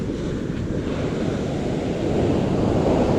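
Loud, continuous roar of rough surf during a typhoon, with heavy wind buffeting the microphone, waves crashing nearby without letup.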